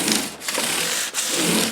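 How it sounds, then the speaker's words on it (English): Emery cloth rubbed over a guitar finish to remove fine sanding scratches, a close, loud, steady scraping hiss in back-and-forth strokes with two brief breaks. "Next step is this emery cloth, and that basically takes out the scratches of the 600 grit."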